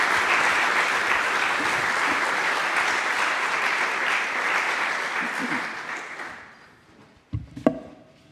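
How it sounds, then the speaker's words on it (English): Audience applauding after a conference talk in Berlin, a dense, loud wash of clapping that holds for several seconds, then fades out, followed by a few isolated knocks and handling noises. "Round of applause."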